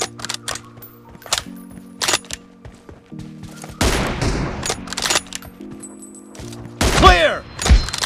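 Bursts of rapid gunfire from a mobile team deathmatch shooter game, loud and close, with clipped single shots early and a dense flurry of automatic fire and impacts later, alongside game menu tones.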